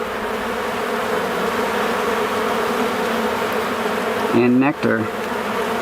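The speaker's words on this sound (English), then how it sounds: "Just a lot of bees," Honeybees swarming over frames pulled from a backyard hive, a dense steady buzz close by throughout, with someone speaking briefly near the end.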